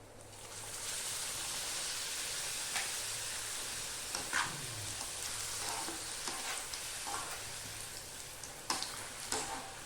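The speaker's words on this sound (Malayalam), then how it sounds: "നമ്മൾ എണ്ണ ചൂടായി അതിലേക്ക് നമ്മൾ ആദ്യം പപ്പടം ഇടുന്നു" Pappadams fry in hot oil with a soft, even, hissing crackle that carries on steadily, with a few faint bubbling pops and no talk.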